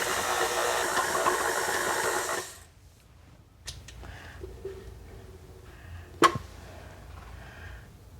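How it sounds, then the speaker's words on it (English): A hand mixer beats a thick Christmas candy batter with a steady, loud whir for about two and a half seconds, then cuts off, leaving quiet handling noises and a brief clatter. "You can use a hand mixer for this job."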